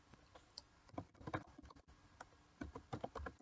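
Soft keystrokes on a computer keyboard come in short irregular bursts with a pause in the middle, very faint and close, alone without talk.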